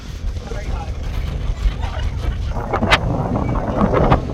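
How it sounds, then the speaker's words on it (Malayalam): Strong wind buffets the microphone in a steady low rumble at a high spot near Hampi, with voices faintly underneath and a few brief louder gusts toward the end. "നല്ല കാറ്റുണ്ട്."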